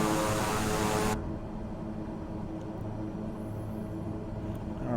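Beechcraft King Air 350i turboprop engine drone in Microsoft Flight Simulator 2020, a steady low humming cabin tone that is louder and brighter for the first second, then continues muffled and even.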